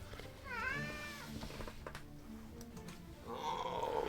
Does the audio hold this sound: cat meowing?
yes